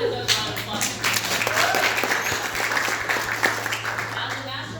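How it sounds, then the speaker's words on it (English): An audience claps in a sustained, moderately loud round of applause with a steady wash of many hands, close and even throughout. "I think that is a round of applause."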